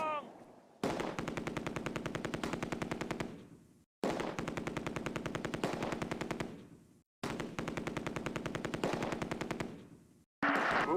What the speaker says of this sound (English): Under heavy fire. Take cover!